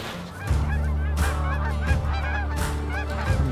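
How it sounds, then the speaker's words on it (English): Flock of geese honking continuously overhead during a goose hunt in Montana, many overlapping nasal calls forming a loud, steady chorus with no talk. "Little geese."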